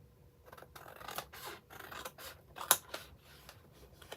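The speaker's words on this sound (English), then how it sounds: "we're going to get my scissors here, and we're going to cut" Scissors cutting paper for an exploding box craft, a quiet series of crisp snips and rustles at a steady rhythm, close by and faint.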